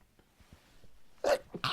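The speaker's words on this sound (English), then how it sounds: "I got to sneeze." A person sneezes close to the microphone, a couple of sharp explosive bursts after a quiet inhaling buildup, loud against near silence.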